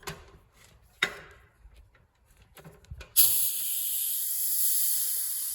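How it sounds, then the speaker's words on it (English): Gas hisses out of a hose valve on a 1981 Jeep CJ-7. A few sharp clicks and knocks come first, then a loud, steady hiss starts abruptly and holds to the end. "now that gas leaking is just what's in between this valve and this valve"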